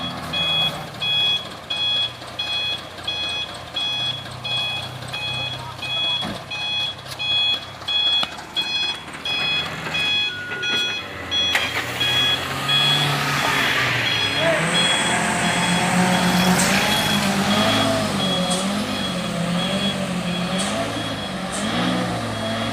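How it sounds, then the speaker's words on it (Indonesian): A loaded onion truck reverses on the steep Bukit Kodok hill climb, its rhythmic backup beeper pulsing steadily before the engine revs up and strains, with people talking nearby. "Satu unit truk bawang ini mencoba menanjak ulang"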